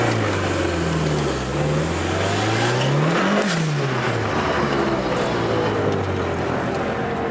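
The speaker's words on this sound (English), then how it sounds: "I love how much turbo noise you can hear in here." A turbocharged Mitsubishi Lancer Evolution VIII accelerates hard, heard loud from inside the cabin, its engine drone climbing, dipping and climbing again while a high turbo whine rises over the continuous roar; no one talks.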